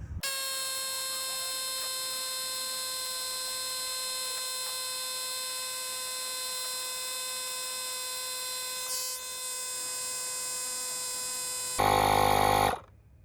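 Cordless Milwaukee air compressor inflating a 34.5 by 11 ATV tire from flat, a steady loud buzzing motor drone with a strong whine held unchanged for about twelve seconds, then a brief louder burst before it cuts off.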